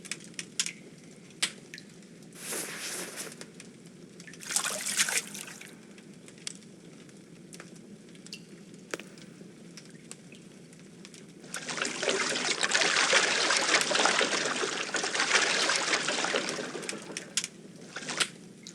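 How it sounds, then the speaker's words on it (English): Items tossed into water in the video game Alter Ego: faint scattered splashes and trickles, then a longer rushing wash of water that fades, with a few sharp clicks along the way. "I'll just throw it all in the water and it'll be done."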